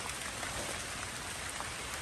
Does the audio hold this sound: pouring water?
no